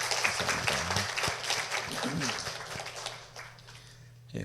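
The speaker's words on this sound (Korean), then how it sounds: "하나님 영광의 박수를 드립니다." Church congregation clapping during a Sunday morning worship service, a moderate round of applause mixed with a voice speaking over it, tapering off toward the end.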